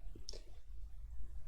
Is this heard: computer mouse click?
yes